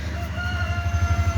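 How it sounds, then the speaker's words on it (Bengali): A show Serama, the world's smallest chicken breed, makes a brief sustained call with a steady tone over a low, pulsing rumble. "এটা হচ্ছে মুরগির মধ্যে সব থেকে, বিশ্বের ভেতরে সব থেকে ছোট প্রজাতির মুরগি এটা শো শেরেমা"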